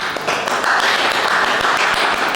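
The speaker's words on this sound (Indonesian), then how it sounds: "Tepuk tangan" Seminar audience applauding, a short burst of dense clapping that holds steady for a couple of seconds.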